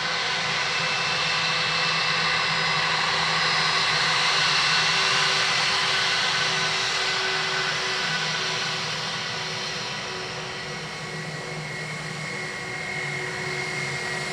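A Ryanair jet on approach to runway 2 left at Dublin Airport, its broad engine roar steady and fairly loud for the whole stretch, easing slightly toward the end, with no voices over it.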